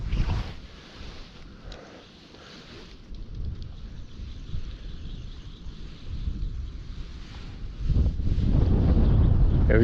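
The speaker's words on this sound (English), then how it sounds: "the wind is blowing us" Wind gusting over the microphone beside a creek in early spring, a steady rumbling buffet that swells loudest near the end, with no voices.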